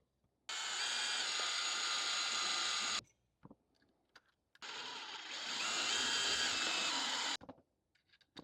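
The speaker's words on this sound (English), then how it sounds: "So first I just want to pre-drill" A power drill pre-drills a hole in wood for a clamp setup, running in two steady, loud bursts of about two and a half seconds each, separated by brief quiet handling clicks.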